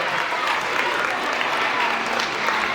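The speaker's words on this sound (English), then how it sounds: "Let's give my friend a nice big round of applause as she makes her way up into the big show." Audience at a family magic show claps steadily throughout as a volunteer comes up on stage, a dense, even wash of applause with faint crowd murmur.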